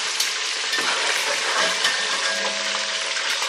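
Chicken pieces fry in hot oil in a home kitchen, giving a loud, dense, continuous crackling sizzle close to the listener, with faint stirring underneath and no talking.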